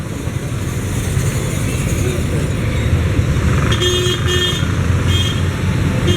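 Busy street traffic on Guimaras Island in the Philippines, with motor tricycles and cars rumbling steadily close by and a few short horn toots cutting through near the end.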